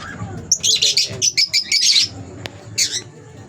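A Lutino Opaline breeding pair of birds squawks and chirps loudly and close by in a rapid burst of sharp calls, followed by a short pause and one more squawk.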